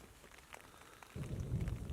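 Thunderstorm rain beating on a tent at a Colorado Trail campsite, quiet at first, then a sudden heavier swell of rain and low rumble joining after about a second, continuing close and dense.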